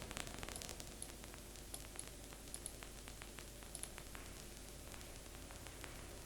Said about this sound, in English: now it really sounds like rain. Okay, we've created rain.